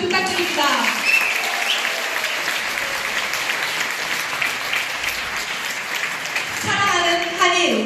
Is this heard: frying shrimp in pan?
no